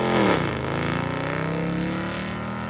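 A Dodge Daytona with a 5.7 engine runs as a steady low rumble that rises and settles, close by, no voices.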